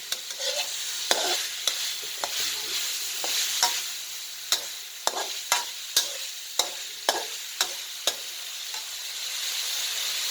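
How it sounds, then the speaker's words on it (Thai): Pork belly stir-fried with red curry paste in a pan, a continuous bright sizzle broken by a regular series of sharp scraping strokes of a spatula, close and loud, with no talking. "จะเรยมหมูกับพริกแกงให้สุกแล้วประมาณนี้ครับ"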